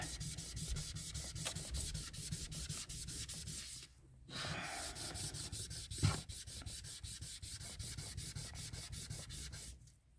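Steady scrubbing of dried terra cotta folk art paint on a decorated surface, a continuous rasping rub that runs alone with two brief pauses, fairly close and even in loudness.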